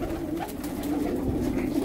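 Soft, low cooing of Hyderabadi pigeons, including a two-coloured bird, continues steadily throughout, close by, with a faint rustling background.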